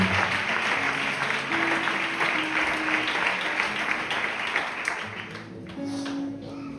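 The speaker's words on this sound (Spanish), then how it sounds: "Le damos un fuerte aplauso a la palabra del Señor" A church congregation breaks into sustained, dense applause during a Sunday service, steady and fairly loud throughout, with faint voices and tones underneath before it thins toward the end.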